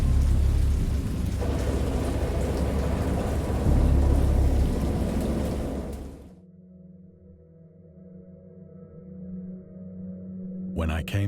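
A stormy deluge of heavy rain with deep rolling thunder fills the first six seconds loudly, then drops away to a low, quieter droning hum before a brief sharp burst near the end.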